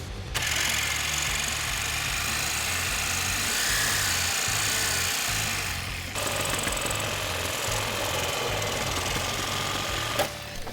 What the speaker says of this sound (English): If the bolt's seized up in the sleeve, like this one is now, you may have to cut it with a sawzall.